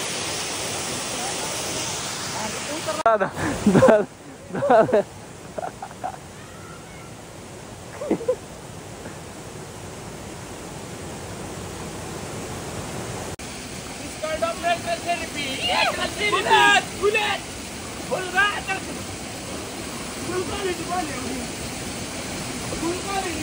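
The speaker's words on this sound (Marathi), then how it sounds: "वसुंधरा वॉटरफॉल आहे बघू शकता तुम्ही" The Vasundhara waterfall on the Randha falls and Hadsar trek gives a steady rushing wash of falling water throughout, with people talking and calling out over it at intervals.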